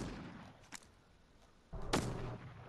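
Gunshots in Fortnite: a faint crack, then a louder sharp shot followed by a short rumbling tail, over a quiet, hissy game background.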